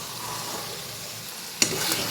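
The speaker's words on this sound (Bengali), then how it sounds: "এই যে এখানে দেখো মশলা করছি, মানে মশলাটা কষছি, বুঝতে পারছো?" Masala spice paste frying and being stirred in a pan, with a soft, continuous sizzle close by and a sharp scrape or clink from the spoon near the end.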